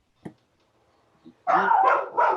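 A dog barks in a home during an online meeting, starting with a single faint yip, then a burst of loud, close, rapid barks.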